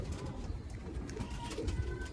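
Pigeons cooing on a rooftop loft, a low continuous murmur of many birds close by with wingy rustles throughout.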